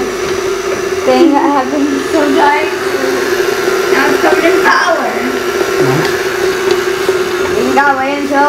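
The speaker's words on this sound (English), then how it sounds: "Don't put flour into a mixer that's on." Electric stand mixer whirring steadily in a kitchen as flour is added while making Adjarian khachapuri, with people chatting and laughing over the continuous motor hum.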